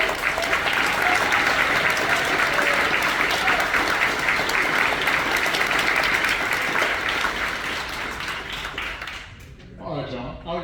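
A town hall audience in Jonesborough, Tennessee applauds a guest speaker, loud dense clapping that holds steady for about nine seconds, then tails off as a voice begins.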